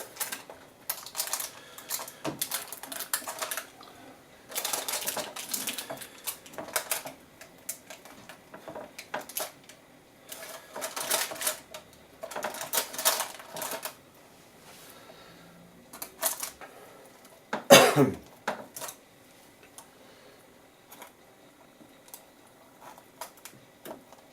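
A knife cuts ginger, fruit and nut flapjacks in a baking tray, making irregular soft taps and scrapes on the tray with occasional sharper knocks, close and quiet.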